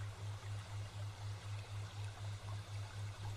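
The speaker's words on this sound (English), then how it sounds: "you can hear, somewhere below, the sound of water, very faint, stream perhaps" A steady soft rush of flowing stream water, with a low rhythmic throbbing hum pulsing regularly underneath.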